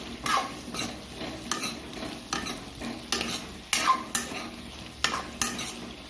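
Tomato being stirred through pork frying in a pan, a spoon scraping in repeated strokes roughly every second over a steady sizzle, with occasional clinks against the pan and no talking.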